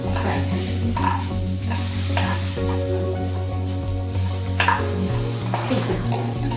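Kidney beans (rajma) sizzle and fry in a pan while being stirred, with steady crackling and repeated scraping of a utensil against the pan close up.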